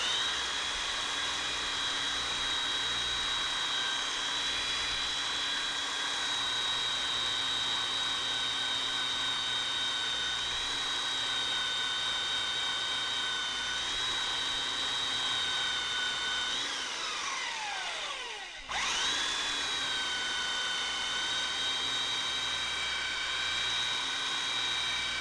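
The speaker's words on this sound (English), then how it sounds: "I kind of need both hands on the sander to get them square" A power sander runs continuously along the edge of a laminate countertop, a loud steady high whine with a brief dip in speed near the end before it spins back up.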